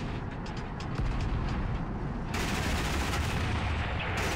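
Continuous rapid machine-gun fire from a helicopter in the tank video game MWT: Tank Battles, a dense loud rattle that intensifies partway through and keeps going without a break.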